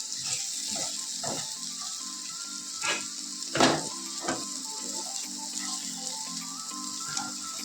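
Potatoes and flat beans frying together in a pan, a continuous moderate sizzle broken by a few sharp scraping clicks from stirring.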